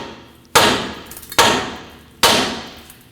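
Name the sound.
hammer striking steering knuckle to free tie rod stud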